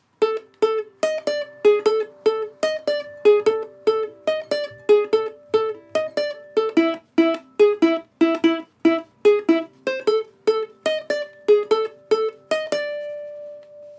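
A ukulele plays a riff alone in a quick, bright series of plucked and strummed notes with a punchy, driving rhythm, ending on a held ringing note.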